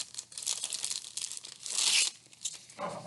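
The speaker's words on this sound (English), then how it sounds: "I'm going to use my sandpaper a little bit." Sandpaper rubbed over a thin balsa wood part for a Delta Dart model plane gives a close, dry rasping scrape in short strokes, one swelling louder and harsher near the middle.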